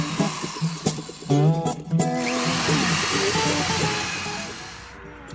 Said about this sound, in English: now the holes are drilled